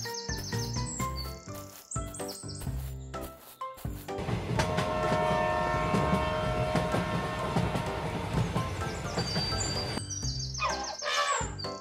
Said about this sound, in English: Guys, get on the train.